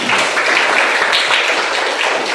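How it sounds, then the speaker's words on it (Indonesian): A classroom of students applauds together during a school lesson, a continuous, close and fairly loud burst of many hands clapping for the whole stretch. "Tepuk tangan untuk semuanya."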